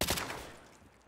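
Gunfire in a SpongeBob-themed video game map: a quick burst of several loud, close shots at the start, then a fading echoing tail, with no talking.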